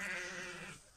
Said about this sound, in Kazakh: Мынау енді үлкен қойлар.